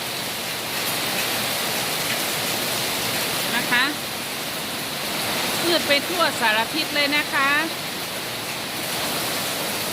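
Heavy rain from tropical storm Noru pours down in Chiang Mai, Thailand, a constant loud hiss throughout while someone talks over it in the middle.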